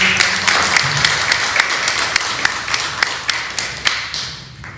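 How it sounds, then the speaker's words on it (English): Audience applause at a podcast launch event, a busy patter of clapping that thins out and fades, leaving a few sparse, distinct claps toward the end. "If y'all can please help me give her a round of applause."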